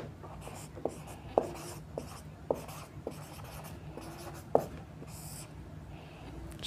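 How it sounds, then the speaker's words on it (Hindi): Chalk or marker writing on a board during a history lesson, with a series of short scratchy strokes and taps at irregular intervals over a quiet room hum, no speech. "एक मिनट मैं लिख देता हूँ"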